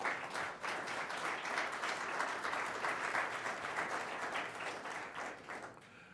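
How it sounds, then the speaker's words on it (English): Audience applause at the launch of a health innovation network, a dense, steady round of clapping from a sizable crowd lasting about six seconds, heard alone with no voices and tapering slightly at the end. "I want a big round of applause for Anne"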